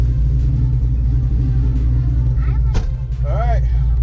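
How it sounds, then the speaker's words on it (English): A roughly 30-year-old Ford Mustang Foxbody idles with a deep, steady, loud engine rumble close by, holding constant throughout with a brief pitched sound near the end. "I haven't heard this car in forever."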